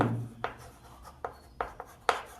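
Writing on paper or a board during a maths lesson on distance and time, a few sparse, close scratchy strokes spaced apart, quiet and without talk.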